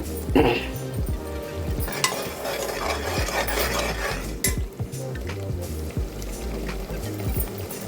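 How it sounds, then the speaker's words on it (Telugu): Food for a Godavari-style prawn curry (koyyanga iguru) fries in a pan over a gentle sizzle, with frequent clattering spatula scrapes against the metal, close and busy. "ఇది పచ్చివాసన పోయేదాకా ఫ్రై చేసుకోవాలి"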